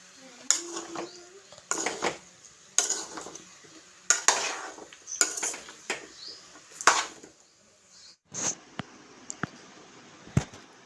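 Bottle gourd pieces being stirred into a curry in a metal pot, a spoon scraping and clanking against the sides in repeated strokes, fairly close, with pauses between bursts and a few sharper knocks near the end.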